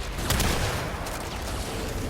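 Tigris Prime shotgun shots fire in Warframe as a couple of heavy blasts in quick succession, loud and dense over continuous game noise.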